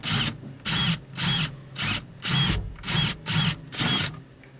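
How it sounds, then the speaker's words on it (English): A power drill cuts the head off a rivet on a pop-up camper furnace thermostat base, running in about eight short, even, close-up bursts with brief pauses between. "Start with the rear rivet, drill the head off of it."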